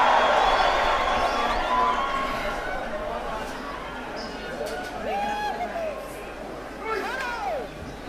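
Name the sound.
football stadium crowd cheering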